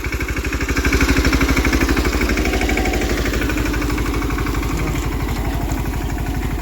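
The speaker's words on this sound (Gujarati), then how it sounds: "મિની ટ્રેક્ટર લઈને ત્યાંથી આવ્યા છે" A small tractor engine, a mini tractor on a farm during the groundnut season, runs close by with a loud, steady, rapid chugging pulse that continues throughout, no voices.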